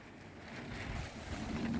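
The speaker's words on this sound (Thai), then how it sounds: "วันนี้ลมแรงครับปิวว่อนๆเลย" Strong wind blows outdoors at a resort garden, a steady broadband rushing roar with gusty swells and buffeting against the microphone, with no talking.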